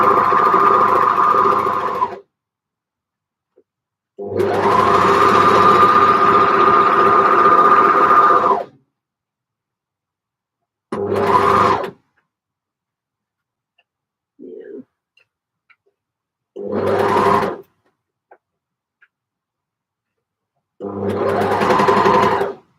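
Sewing machine stitching the underarm seam of a knit top, running in several bursts of varying length, some long and steady, others short, with silent pauses between them, close and clear.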